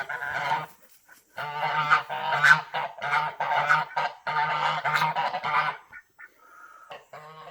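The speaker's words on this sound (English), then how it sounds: "I think they use this type of goose to make the sound for those dragons." A flock of agitated farm geese honk loudly and close by in repeated bursts, with a duck mixed in among them, a few quieter calls trailing off near the end.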